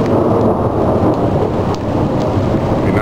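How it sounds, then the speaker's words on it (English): Thunder rolls through a spring electrical storm, a loud continuous rumble with a dense low roar and faint crackles, heard alone without voices. "It's a rather electrical storm."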